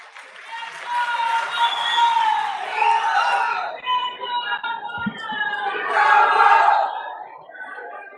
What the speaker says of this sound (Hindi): आप बहुत तालियां बजा रहे थे